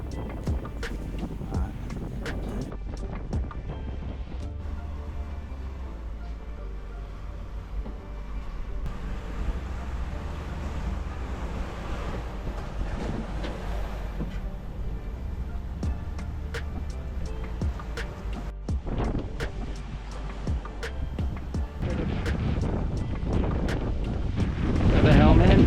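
A sailboat at sea off Fiji, under way on a long day sail, with steady wind buffeting the microphone and a low rush of water and hull noise throughout, growing louder toward the end.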